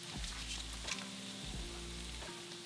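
Two full sticks of butter sizzle and crackle in a pan while being stirred, a steady close frying hiss with a few scraping stirs and low thumps, no talking.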